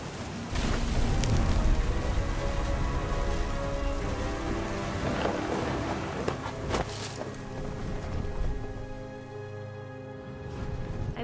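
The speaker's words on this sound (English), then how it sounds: "The thunder sounded much too close and full of angry power" Steady heavy rain pours down in the video game What Remains of Edith Finch, with low rumbles of thunder rolling through the downpour, loud and continuous without a break.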